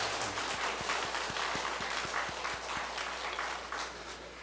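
A church congregation at an Easter Sunday service applauds warmly in welcome, with steady clapping from many hands that fades slightly toward the end.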